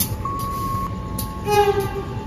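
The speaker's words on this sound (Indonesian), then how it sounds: "Jelek banget klaksonnya" Diesel locomotive horn, a harsh, flat-sounding double-tone blast held close and loud over low idling engine rumble, with a second shorter tone joining near the end.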